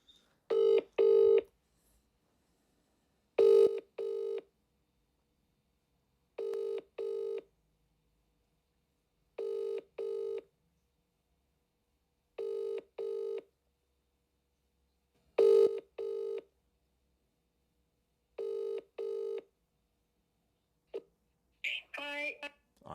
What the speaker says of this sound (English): let's do a double dial just in case